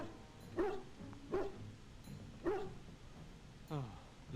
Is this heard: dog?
yes